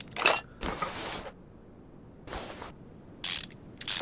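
Bolts being unscrewed in Car Mechanic Simulator 2021, short bursts of rapid ratcheting clicks from a power tool repeated several times with quiet gaps between them, close and crisp.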